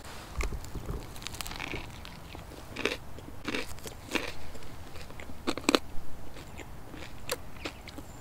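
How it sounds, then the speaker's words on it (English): Crisp bites and chewing of a Jack in the Box Cluck chicken sandwich, close and fairly quiet, with sharp crunches scattered through steady mastication. "let's try the first bite"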